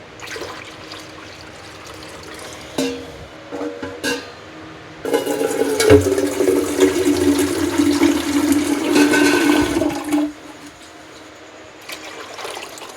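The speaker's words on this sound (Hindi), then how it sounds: "थोड़ा सा पानी डाल लेंगे" Water is poured into milk in a home kitchen, a short splash followed by a steady few-second stream of pouring liquid, then quiet.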